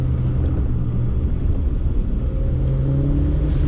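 A Toyota MR2 with a turbocharged 3S-GTE engine and stock turbo accelerates, giving a loud, steady engine drone heard from inside, with rising tonal whine toward the end and no talking.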